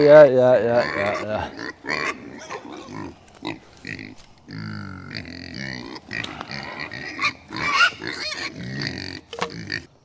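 Pigs on a farm grunt and oink in a busy run of short, rough calls close by, with a person speaking among them.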